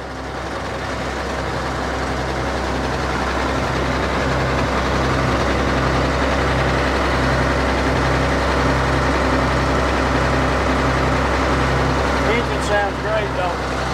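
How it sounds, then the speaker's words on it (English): A log loader's heavy diesel engine runs steadily and loudly nearby, a deep continuous rumble with a rhythmic throb, and a voice briefly near the end. "Engine sounds good."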